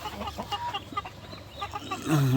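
Hens and roosters of the Tiger laying breed cluck repeatedly at close range, short uneven calls scattered through the clip over a faint murmur of farm background.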